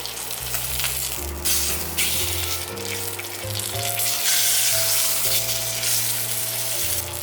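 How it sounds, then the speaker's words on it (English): Skin searing in a little hot oil for tonkotsu ramen, a continuous bright sizzle running under steady background music. "And then we sear the skin in a little bit of hot oil."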